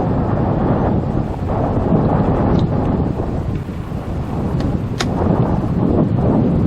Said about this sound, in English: it's amazing how much this little bit of wind that's blowing is moving me around a little bit.